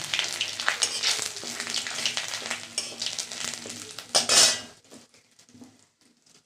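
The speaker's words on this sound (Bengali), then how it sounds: "ও ফুলকপি ভাজার তেলের মধ্যেই শুকনো লঙ্কা দিলাম, জিরা দিলাম আর আদা দিলাম, তেজপাতা দিলাম" Dried chillies, cumin, ginger and bay leaf dropped into hot oil left from frying cauliflower, loud close sizzling with metal utensil clatter against the pan, then the frying fades to a quieter hiss.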